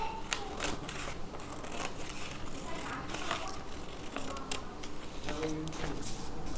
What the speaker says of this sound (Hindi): तो एक्स्ट्रा जो 1 इंच लिया था वो ऐसे काटूंगी और साइड की तरफ से भी काट दूंगी।